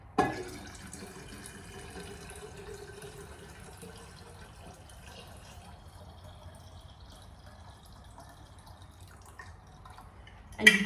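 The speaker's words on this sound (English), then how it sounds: "And now I'm going to top up with some cold water." Cold water is poured into a kombucha jar, a soft, faint trickle and patter running steadily between two brief louder knocks at the start and end, with no voices.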